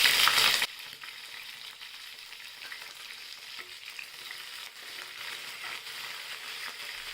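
Garlic drops into hot tempering oil with a sharp, loud burst of sizzling that quickly settles into a softer, steady frying crackle, close and without speech.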